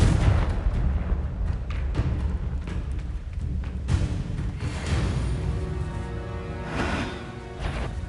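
Booming blasts from the Confringo spell burst repeatedly in the wizarding game Hogwarts Legacy, with heavy, thudding explosions that overlap into a continuous loud, rumbling barrage.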